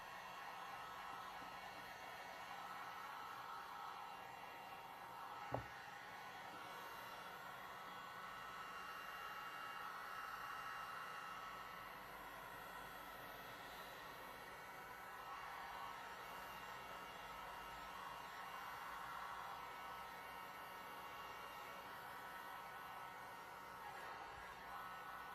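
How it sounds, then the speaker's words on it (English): A heat gun blows steadily over a freshly poured resin dirty pour swirl, a continuous airy whoosh held at an even, fairly quiet level, with one brief click partway through. "I don't know when to stop with the heat gun, otherwise it'll just burn your resin"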